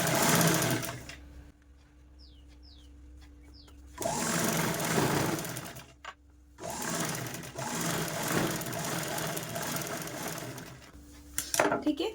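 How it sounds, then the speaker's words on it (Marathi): Sewing machine topstitching along a zipper on a cloth bag, fast close mechanical whirring in three long runs separated by short quiet pauses, with no talking over it. "आता याच्यावरती ना आपल्याला अशी दाबटीप देऊन घ्यायची आहे."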